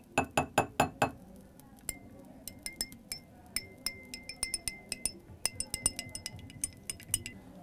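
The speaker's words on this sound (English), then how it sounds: "Stir the starch powder in water." A rod stirring starch powder into water in a glass beaker, first a quick run of five sharp clinks, then irregular lighter taps and scrapes against the glass continuing throughout, close and clear.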